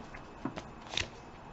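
A deck of tarot cards is shuffled nearby, soft riffling and sliding with a few brighter flicks over a steady low room hiss, brief and fairly quiet.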